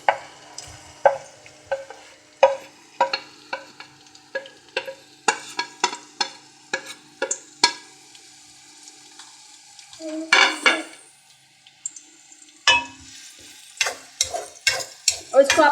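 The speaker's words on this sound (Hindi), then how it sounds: "ज़ीरा ऐड कर देना है और ज़ीरे के साथ ही आपने इसमें बारीक चॉप की हुई प्याज ये इसमें ऐड कर देनी है" Cumin seeds and finely chopped onion frying in a pot, heard as a run of sharp clattering stirs and scrapes against the metal with sizzling between them, fairly close and irregular, with no voices.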